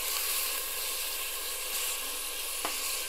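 Half a kilo of minced mutton keema fries in a pan over high flame, producing a dense, continuous sizzle close up with a faint stirring scrape beneath.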